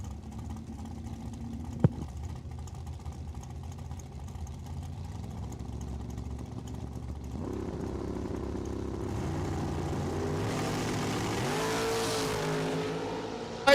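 Drag racing cars at Cordova Dragway: engines idle and rumble at the line, then rise into louder revving and a roaring surge toward the end, heard from a distance in an open setting.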